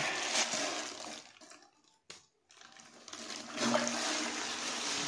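Toilet bowl flushing after being unclogged, a loud rushing of water that drops briefly to near silence midway, then surges back with strong gurgling wash, close and alone.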